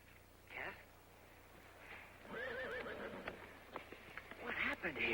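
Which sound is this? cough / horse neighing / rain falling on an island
horse neighing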